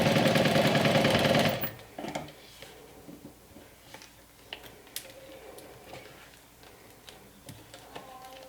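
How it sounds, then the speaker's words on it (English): A sewing machine runs briefly and loudly while stitching the sides of a crossbody bag, then stops, leaving soft ticks and handling clicks. "This time I'm going to go ahead and sew on the sides."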